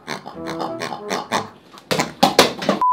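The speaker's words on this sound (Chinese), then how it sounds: "他来卖这个猪叫玩具" A handheld squeeze toy shaped like a frog and pig gives a run of short, squeaky grunting oinks, followed by several sharper, louder squeaks near the end.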